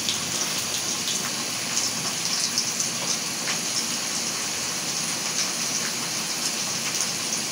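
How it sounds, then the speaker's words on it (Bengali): Ginger-garlic paste sizzling steadily in hot oil in a pan, a dense continuous hiss and crackle with no voices, cooked for a spicy beef stew. "আদা রসুন বাটা দিলাম।"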